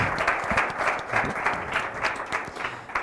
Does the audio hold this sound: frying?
no